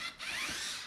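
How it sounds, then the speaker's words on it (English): Side screws on a Chauvet Colorstrip light bar being undone, giving a brief, faint close-up ratcheting click of the screwdriver turning a tight screw. "So we'll go for the side screws."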